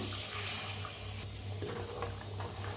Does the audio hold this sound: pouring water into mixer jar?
yes